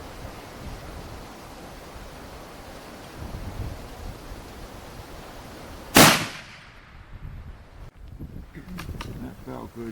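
A single .416 Barrett long-range rifle shot fires outdoors, one sharp loud crack followed by a decaying boom and rumble over steady wind noise.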